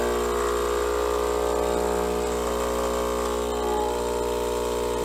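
Philips 3200 LatteGo coffee machine pumping water through its system, a constant dense mechanical hum and buzz with a steady pump drone, close and unbroken throughout.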